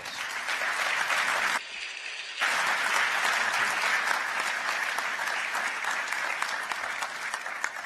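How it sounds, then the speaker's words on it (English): Audience applause at a state luncheon honoring French President Emmanuel Macron and Mrs. Macron: a steady, dense roomful of clapping, with a brief drop in level early on before it swells back and carries on evenly. "everyone here will join me in applauding the historic progress"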